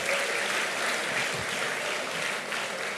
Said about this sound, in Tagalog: Sige po, palakpak kay Jesus.